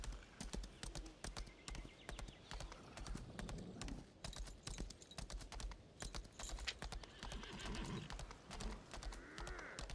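Rhythmic clip-clop of horse hooves trotting at a steady pace in the video game Lost Ark, fairly close and continuous, with faint background sounds.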